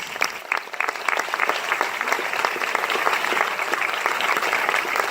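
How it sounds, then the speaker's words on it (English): An audience at the 2017 Tribeca Film Festival applauds with steady, dense clapping that holds evenly throughout, with no voices on top. "That really deserves a round of applause."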